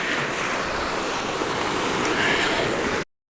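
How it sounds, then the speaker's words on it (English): Ocean waves recede over a sandy beach in a continuous, dense wash of hiss and rumble, loud and close, ending abruptly in silence. "the wave receding back into the ocean, leaving a trail, a small trail in the sand"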